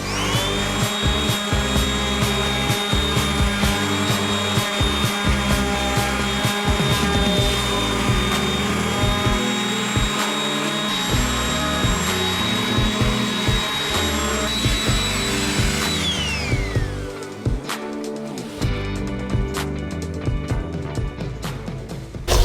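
Orbital sanding of wood with 320 grit sandpaper as a dust collector runs, a steady loud whine and hum that drops in pitch near the end as the machine winds down, with no talking.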